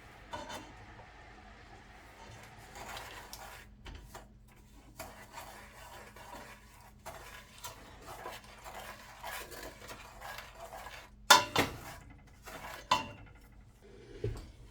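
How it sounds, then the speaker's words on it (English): Melted butter, sugar and heavy cream stirred in a pot, giving faint, soft scraping and light clinks of a utensil against the pan, with a couple of louder knocks toward the end and no talk. "I'm going to add my 1/2 cup and 1/2 cups of sugar and stir that around while adding the 1/3 cup of heavy cream."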